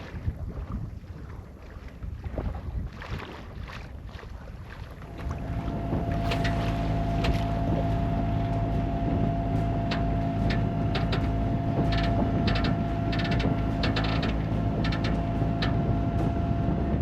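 A sailboat's inboard engine starts about a third of the way in amid wind buffeting, then settles into a steady, loud droning hum while the boat motor-sails into the wind.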